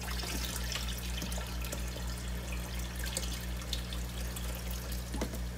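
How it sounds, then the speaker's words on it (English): Aquarium water from a small 5-gallon planted tank trickles and splashes steadily as it is poured back in, close and continuous over a constant low electrical hum. "So for now, I'm just putting the same water back."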